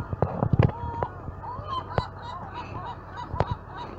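Honking, gull-like bird calls ring out on an island, several sharp cries scattered over a few seconds against steady outdoor background noise, some close and loud, others fainter.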